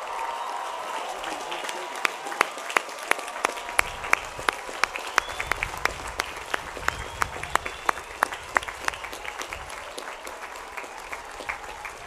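A large crowd at a Cal Poly San Luis Obispo commencement ceremony gives a steady round of applause, dense clapping sustained throughout with a faint murmur of voices underneath.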